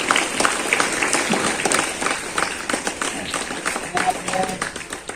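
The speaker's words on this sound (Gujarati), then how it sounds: "આપણે બધા એમને તાળીઓ પાડીને આપીએ" A gathered crowd at a village Independence Day celebration at a primary school in Shampara, Bhavnagar, claps for the newly elected sarpanch, with dense, continuous applause and some voices mixed in.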